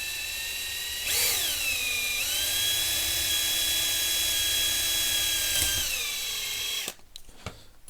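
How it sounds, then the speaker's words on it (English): A power drill set to hammer mode bores a hole through a non-concrete wall from the back, a steady close whine that dips in pitch as it bites, running about six seconds before stopping with some handling noise. "that's the first hole drilled"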